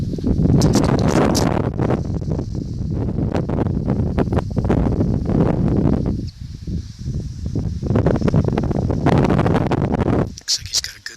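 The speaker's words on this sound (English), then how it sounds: "Wind is gusting here, so again it'll take another adjustment." Wind gusts hard across an outdoor lawn bowling green during a men's singles final in Calgary, Alberta, roaring and buffeting the microphone almost continuously and easing only briefly between loud surges.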